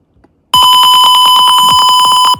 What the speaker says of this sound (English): Now we get a sound that sounds more like a piezo buzzer